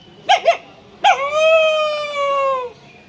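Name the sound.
man imitating a dog barking at night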